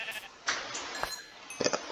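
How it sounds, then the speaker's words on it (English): Sheep in the Minecraft video game bleat in a few short, faint calls spaced across two seconds, with no talking. "Sheep?"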